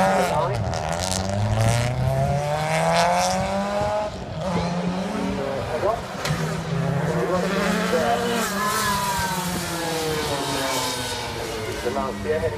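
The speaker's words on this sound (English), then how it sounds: "Lancia heading down the track" A classic Lancia rally car runs along the track at Oulton Park, its engine rising and falling in pitch through gear changes, loud and continuous, while a commentator talks over it.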